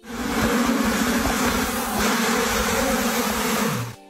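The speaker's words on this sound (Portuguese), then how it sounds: "quem diria que para isso seria preciso enfrentar todo um exército de abelhas" A swarm of honey bees buzzing loudly and continuously, a dense droning hum held close for the whole stretch before cutting off abruptly at the end.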